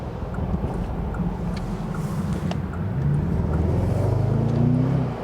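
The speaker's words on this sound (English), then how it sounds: "go to the motorway with the convertible and see how it performs there when we drive open top at higher speeds" Steady, loud rush of wind and road roar from a Bentley Continental GTC convertible cruising open top at speed on a motorway, with low engine hum rising slightly toward the end.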